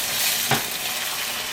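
Eggs frying in a hot pan over medium-high heat while fried rice is made, a steady close sizzle throughout with a brief louder stir or scrape partway through.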